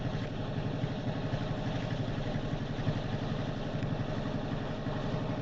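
A side-by-side UTV engine runs steadily at close range, a continuous low, throbbing rumble with a clattering mechanical texture and no gaps, nobody talking over it.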